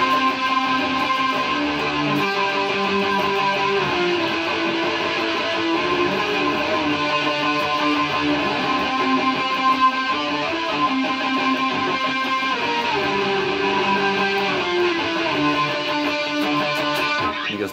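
An electric guitar solo from a song plays continuously and loudly for the whole stretch as a sustained melodic line over a steady, full backing, with no talking.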